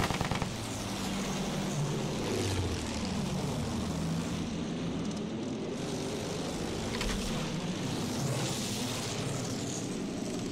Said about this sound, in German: Flugzeug in Sichtweite!